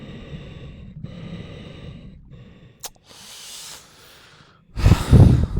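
A diver's breathing apparatus in the Tomb Raider II diving area hisses through a series of regulator breaths, with steady airy intakes separated by short gaps and a louder, heavier exhale at the end.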